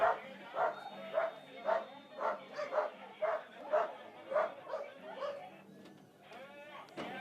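Dogs beside the Valparaiso Cerro Abajo downhill bike course bark in a long, rapid, evenly spaced series of a dozen or so barks, then fade out as faint background noise takes over.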